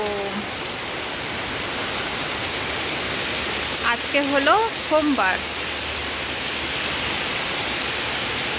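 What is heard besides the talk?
heavy rain falling on a monsoon day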